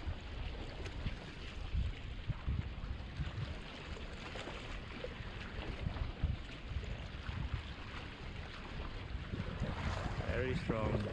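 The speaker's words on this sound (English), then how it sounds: "This wind just getting really strong now." Strong wind gusting at a rocky shoreline while land-based fishing, a loud, rough roar buffeting the microphone over continuous surf, with a voice faintly underneath.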